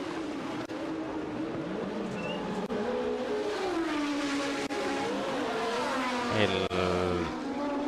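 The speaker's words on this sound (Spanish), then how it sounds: "Motores turbo de la década de los 80" Turbocharged Formula 1 cars from the 1980s race at the 1983 Dutch Grand Prix, their engines screaming and rising and falling in pitch as several pass in turn, with a commentator talking over much of it.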